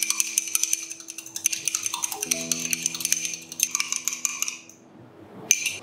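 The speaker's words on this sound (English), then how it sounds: "Now to the milk, I'm gonna add the egg. Beat it super nicely." An egg is beaten into milk in a bowl, giving a close, rapid, rhythmic clinking and tapping that pauses briefly and then resumes. No one speaks.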